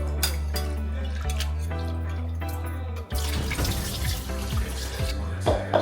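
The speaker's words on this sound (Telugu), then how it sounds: "1 కప్పు పెసరపప్పుని వాటర్తో కడుగుతున్నాను" Tap water runs steadily over a cup of moong dal being washed in a kitchen, a continuous close splashing flow with a brief interruption midway, then more irregular sloshing as the lentils are rinsed.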